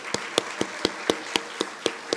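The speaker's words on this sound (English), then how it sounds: "I think that deserves another round of applause for these amazing people." Faint, steady hand claps at a temple opening ceremony, about nine evenly spaced claps in two seconds, sounding like a small group or single clapper rather than a large crowd.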